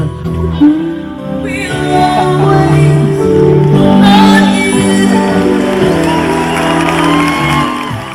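Concert crowd at a 1994 street rod nationals show cheering and whooping for a country and R&B singer, loud sustained shouts blending with music.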